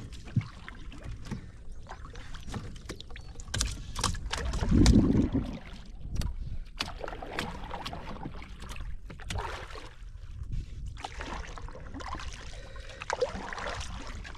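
A wooden fishing boat drifts, pushed by wind, on the Krishna river: steady water lapping and soft hull knocks, with a louder rush of water and bumping near the middle and light clatters throughout, no voices.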